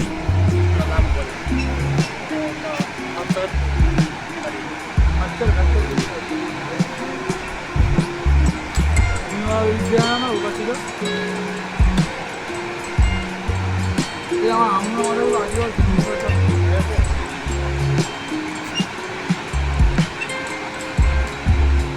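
A rushing river on the Everest base camp trek between Toktok and Namche Bazaar, a loud steady broadband roar of water with intermittent bursts of voices over it.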